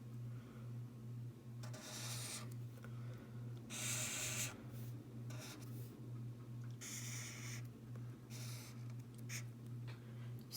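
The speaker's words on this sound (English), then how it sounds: "I'm going to draw it down here." A pen or marker draws a rectangle by hand for a surface area lesson, giving scratchy rubbing strokes in several bursts over a steady low hum, close and fairly quiet, with no voices.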